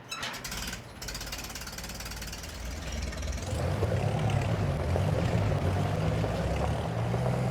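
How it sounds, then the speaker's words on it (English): A tractor engine in Farming Simulator 25 starts moving, beginning with rapid mechanical clatter and rising into a steady, louder chugging drone that carries on to the end. "We're gonna move this tractor."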